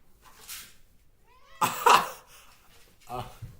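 Household cats meow and caterwaul nearby in short, separate bursts with quiet gaps between them, in an otherwise calm indoor room.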